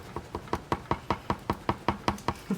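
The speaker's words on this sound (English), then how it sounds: "That's my light hitting my desk there." A dozen sharp wooden knocks of a desk lamp hitting a desk, in a steady, quick rhythm, close and fairly loud, with no voices.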